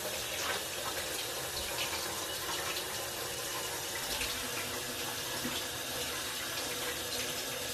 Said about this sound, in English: we're going to turn on this tap water